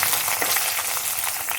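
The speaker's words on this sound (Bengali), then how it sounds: "দিয়ে প্রথমে ক্যাপসিকামটা হালকাভাবে ভেজে নেব।" Capsicum frying lightly in hot oil in a wok gives a continuous, even sizzle with small crackling pops, close and moderately loud, with no voices.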